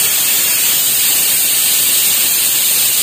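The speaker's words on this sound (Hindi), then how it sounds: "ये वाला कुकर जब से आया ना हमेशा सीटी लगती है" A pressure cooker's whistle blasts steam in a home kitchen, a loud, continuous high hiss that holds steady throughout with no pauses, heard alone without voices.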